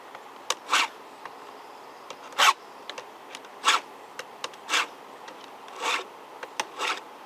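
Hand file rasping across chainsaw chain teeth to sharpen them, a series of short scraping strokes spaced about a second apart, close up with no talking.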